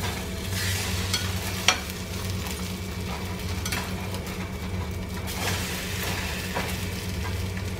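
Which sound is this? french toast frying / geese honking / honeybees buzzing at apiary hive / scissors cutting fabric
french toast frying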